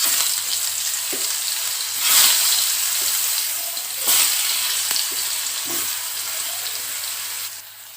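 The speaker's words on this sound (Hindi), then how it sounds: "सारे परवल को मीडियम फ्लेम में फ्राई कर लेंगे।" Pointed gourd (parwal) pieces fry in hot refined oil in a pan, giving a steady, close sizzle that keeps up throughout, with a few soft stirring knocks and brief swells of crackle.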